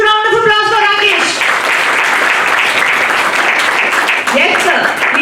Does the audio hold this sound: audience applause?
yes